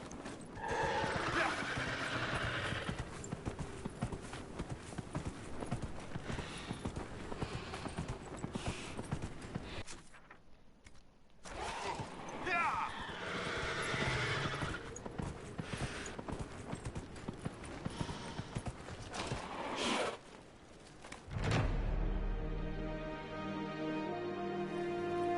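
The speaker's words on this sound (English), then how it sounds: "Apparently we're all riding the same horse." Horse hooves clip-clopping at a steady gait with occasional whinnies in the video game Dragon Age Inquisition, in a desert area, continuous and fairly close, with a short pause midway and a brief musical sting near the end.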